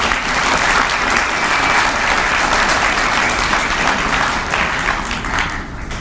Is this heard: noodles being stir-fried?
no